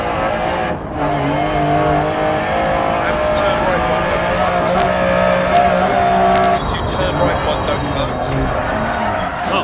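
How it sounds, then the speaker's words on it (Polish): Lancia Stratos rally car in Dirt Rally accelerating hard, a loud steady engine drone rising through the gears with a brief tire squeal, heard under someone talking throughout. "Samochód się za szybko rozpędza."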